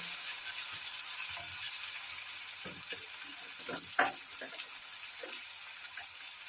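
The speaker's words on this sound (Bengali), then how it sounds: "পেঁয়াজ টমেটো লাল করে ভেজে নেব।" Onion and tomato frying in a pan for a Bengali-style chicken curry, a steady soft sizzle throughout with a few faint stirring scrapes and one brief clink, close but low in level.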